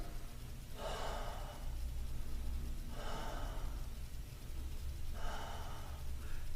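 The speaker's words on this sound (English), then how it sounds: "3 deep breaths." Three slow, deep breaths in a seated chair yoga routine, each a soft, airy exhale spaced about two seconds apart over a low steady room hum, no talking.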